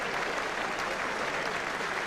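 A rugby crowd at a Gloucester versus Saracens match applauds as a player leaves the field, a steady and fairly loud wash of clapping that holds without a break.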